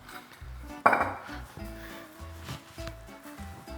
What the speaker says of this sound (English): So just drop the pasta in,